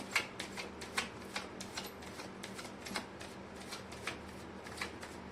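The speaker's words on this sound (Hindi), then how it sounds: "मैं कर लेती हूँ कार्ड की शफलिंग।" Tarot cards are shuffled by hand in a quiet room, a rapid series of soft riffling flicks and taps repeating unevenly, close and faint with no talk.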